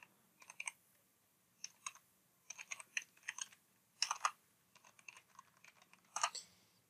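Quiet clicks of a computer keyboard as a class name is typed in irregular clusters of keystrokes with short pauses, close and soft over a low hum.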